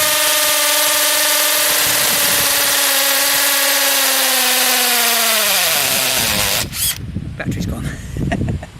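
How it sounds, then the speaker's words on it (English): A Bosch Professional 18V cordless combi drill on hammer action with a 6mm SDS bit whines steadily at high pitch, its tone sagging and slowing as the battery dies, then cutting out into rough clattering and handling noise. "if I use my Bosch with hammer action, it's got an SDS bit fitted."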